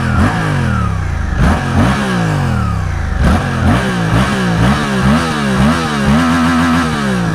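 Motorcycle engine revving hard through its stock exhaust with a small cover, repeated throttle blips rising and falling in pitch, loud and close with no talking.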